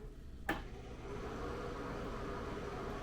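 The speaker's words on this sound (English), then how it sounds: "I want to turn the fan on and just show you kind of how the thing sounds" A click, then a steady whooshing hum of a small exhaust fan that holds constant and even without letting up.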